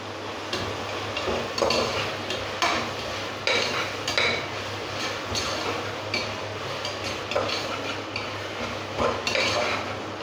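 Tomato, mint and coriander sauté in a pan for a cauliflower biryani, a continuous sizzle broken by repeated spoon scrapes and metallic knocks against the pan, close and steady, with no talking.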